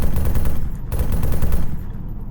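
Machine gun fire from a UAV drone turret in the video game Arma 3, a loud, rapid stream of shots in two close bursts with a brief gap between.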